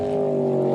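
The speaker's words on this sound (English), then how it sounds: "But this boat sounds very, very crisp." A jet sprint boat engine with a white pointer Stinger hull drones steadily at close range during a Jetsprint Championship race, a loud, even, throaty roar with no pauses.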